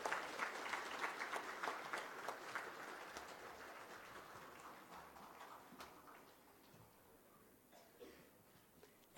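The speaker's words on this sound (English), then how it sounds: "Let us all extend her a round of applause, and that is a warm welcome." Applause greets the President of Nepal at the opening of the Nepal Power Investment Summit 2018. A hall audience claps steadily at moderate volume, then the clapping thins out and fades toward the end.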